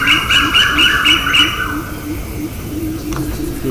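Birds call in a melaleuca forest with a repeated rhythmic cooing phrase up front, then quieter scattered calls over a steady low rumble.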